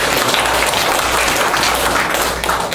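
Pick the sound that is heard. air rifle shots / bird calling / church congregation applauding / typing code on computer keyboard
church congregation applauding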